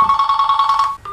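A telephone rings loudly and up close, an electronic trill pulsing in quick even bursts for about a second before cutting off abruptly.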